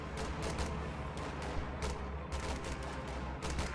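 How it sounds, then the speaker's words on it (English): Dense, continuous gunfire and explosions from a World War II strategy game battle with Panzer Grenadiers, sustained bursts layered over a constant rumble of combat, loud and close throughout. "Enemy fire! Under fire!"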